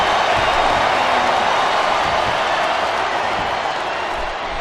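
Arena crowd in the wrestling video game WWE Smackdown vs RAW 2008, Torrie Wilson vs Kelly Kelly match, a steady loud roar of cheering filling the whole stretch.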